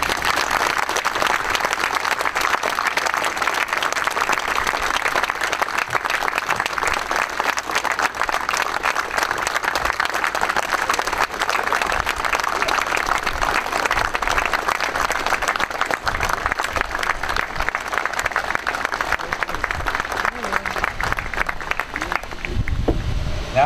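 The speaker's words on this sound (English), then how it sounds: "please join me in a round of applause for these great soldiers" An audience at a reactivation ceremony of the 1st Battalion, 143rd Infantry Regiment applauds the soldiers with a long, steady wave of clapping that stays loud and dense throughout before thinning at the very end.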